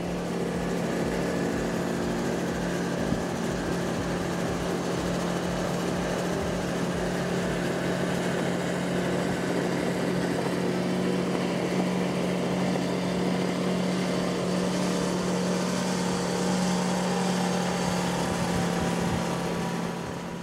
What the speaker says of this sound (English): Let's listen in to that 2200 horsepower.